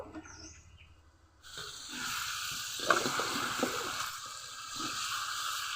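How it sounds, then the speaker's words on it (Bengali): Bottle gourd pieces cooking in a pan, starting quiet and then rising after a moment to a steady, close hiss of sizzling with a few soft clinks and stirs. "একটু ভালো করে কষিয়ে নিতে হবে, ততক্ষণ না লাউগুলো একটু নরম হয়ে আসে"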